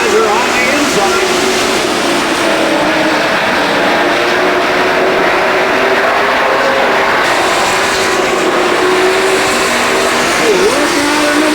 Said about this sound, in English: Lighthizer now has the lead. Pacer Popham on the outside.